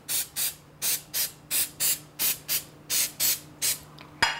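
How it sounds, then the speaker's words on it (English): Cooking spray misted lightly onto metal muffin pans in a kitchen, about a dozen short, even hissing bursts in steady rhythm, close and clear with no talk. "I'm going to very lightly spray these pans just to make sure it doesn't stick."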